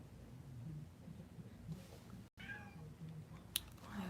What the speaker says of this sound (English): what's wrong with my cat?